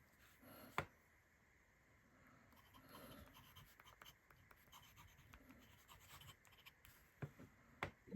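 A pen laid down with Diamine ink scratches faintly across paper in soft, intermittent strokes, with a few sharper taps and knocks breaking the near-quiet.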